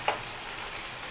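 Fish pieces sizzle as they fry in hot oil, a steady close hiss with a brief sharper crackle at the start and no talk.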